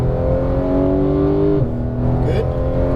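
A Porsche 911 GT3 of the 991 generation accelerates on a racetrack, its engine loud and close with a steady high-revving drone whose pitch drops sharply at a gear change partway through.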